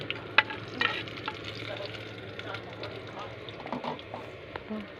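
Ginger sautéing in a pan for lugaw, a soft continuous sizzle with occasional scrapes and clinks of a spoon stirring, fairly quiet and close.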